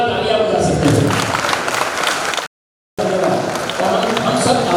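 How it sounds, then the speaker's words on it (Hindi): An audience at a Janmashtami stage performance at Bhaktivedanta Kalakshetra breaks into loud, dense applause that fills the hall, briefly cut off by a moment of silence before the clapping resumes. "तो अपने आपको कांग्रेचुलेट होने के लिए जोरदार तालियां बजा सकते हैं।"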